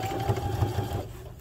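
A sewing machine runs steadily, stitching elastic onto durable skate guards, its motor whirring with a fast rhythmic needle chatter close up before cutting out near the end.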